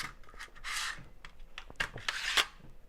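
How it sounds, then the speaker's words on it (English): A strip of nails is slid into the magazine of a stick framer nail gun, giving soft metallic scraping and rubbing strokes in short bursts, close and fairly quiet with no talk. "This is called a stick framer. And the nails just slide right in."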